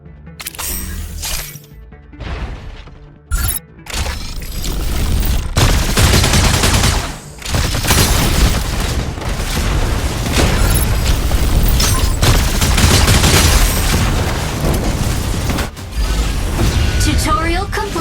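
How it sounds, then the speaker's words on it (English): Energy autocannon in the mecha game Mecha BREAK firing in sustained rapid bursts, loud dense booming fire with mechanical clatter and brief gaps, under a game announcer's voice. "neutralize all enemy strikers using the energy autocannon"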